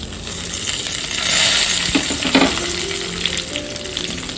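Dried red chillies and peanuts sizzle in hot oil for tamarind rice, a steady bright frying hiss with a few stirring clinks in the middle, close and alone without talk.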